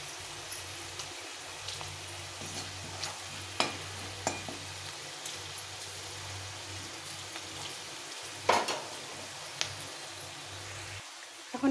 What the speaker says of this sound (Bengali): বাদামগুলো সুন্দর, ছোলাগুলো সুন্দরভাবে ভাজা হয়ে গেছে